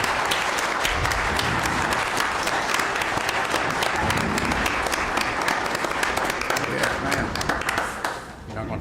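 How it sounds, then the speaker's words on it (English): A crowd applauds steadily, dense clapping that continues at full strength for several seconds before easing off at the end. "If y'all could give her a round of applause."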